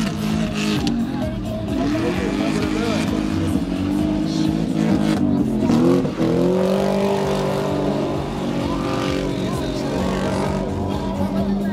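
BMW cars drifting in tandem at the 13th BMW gathering in 2014: loud, continuous engine roar with rising and falling revs and tyre noise from several cars, with voices faintly in the background throughout.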